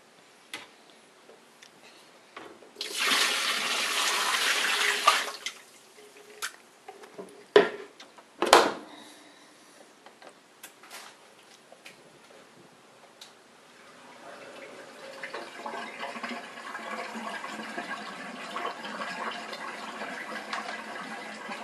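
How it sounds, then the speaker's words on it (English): A Bosch SHE4AP02UC dishwasher draining a large amount of water, heard as a bright rushing surge that comes and goes in bursts among clicks and ticks, then a steadier low pumping wash toward the end, with no talk. "Let's see how it does pumping this much water out."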